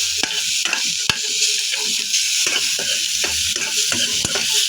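Garlic, onion and ginger sautéing in a pan for adobong balut, with steady loud sizzling and frying crackle plus repeated sharp clacks of a utensil stirring against the pan.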